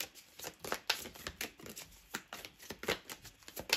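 Apollonia oracle cards are shuffled by hand in a quick series of soft riffling flicks and taps, close and fairly quiet, in an irregular rhythm.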